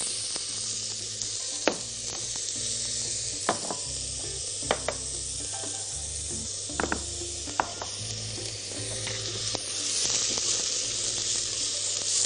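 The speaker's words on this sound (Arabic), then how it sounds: "حط البصل، نبدا ان احنا نشوحه كويس جدا" Onions sautéing in oil in a pan, a steady loud sizzle running throughout with occasional sharp clinks and scrapes of a utensil against the pan, no voices.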